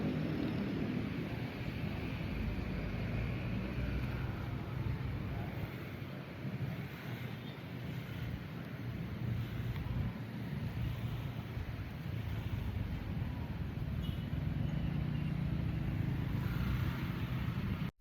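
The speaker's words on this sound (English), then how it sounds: "This is what a typical road in South Jakarta looks like: the traffic, the streets, and the everyday environment when you move around the city by motorcycle." Road traffic in South Jakarta heard from a moving motorcycle, a steady broad rush of wind and engine noise with passing vehicles blended into a constant roar throughout.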